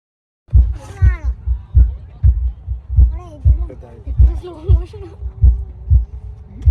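At the Pulse Island light installation in Manar Abu Dhabi, an amplified heartbeat driven by a visitor's hand pulse plays as steady, loud, low double thumps under voices talking.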